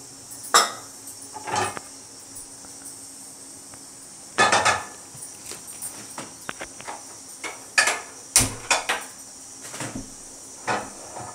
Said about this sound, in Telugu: నూనె కాగేలోపు మనం చిన్నులపై కారం వేసేసి మనం రోట్లో నూరేసుకుంటున్నాం.